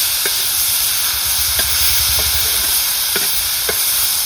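Tomato chutney sizzles and fries on an eight-year-old iron tawa, a steady close hiss with a few faint clinks of stirring and a low rumble underneath.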